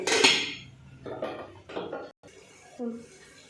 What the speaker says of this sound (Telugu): ఇప్పుడైతే కొంచెం సేపు మూత పెట్టుకోవాలండి